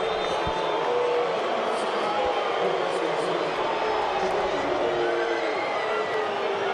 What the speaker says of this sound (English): you hear the reaction from the crowd here at Audi Field. The cheering Jamaicans as well.